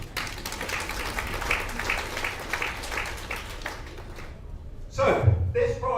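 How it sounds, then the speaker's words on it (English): Audience applause at the unveiling of an organic biopesticide product, a scattered round of clapping fading out after several seconds before a voice begins speaking. "If you want to clap, please do feel free."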